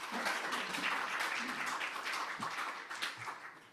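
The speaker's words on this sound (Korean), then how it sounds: "뜨거운 박수를 부탁드립니다." Audience applause at a Democratic Party joint campaign rally for party leader and supreme council candidates in Daejeon, Sejong and South Chungcheong, with dense, steady clapping filling the hall throughout and a few low murmurs mixed in.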